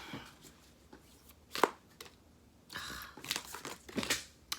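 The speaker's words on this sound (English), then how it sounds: "I'm just being a terrible shuffler right now." Tarot cards are shuffled by hand in a quiet room, giving soft papery riffles and scattered crisp flicks that come in short irregular bursts with pauses between.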